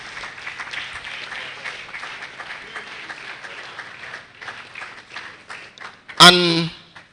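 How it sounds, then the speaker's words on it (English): A conference crowd applauds steadily, a dense wash of clapping that fills the space, with a voice speaking loudly over it near the end. "Please, can you keep clapping for this woman of substance?"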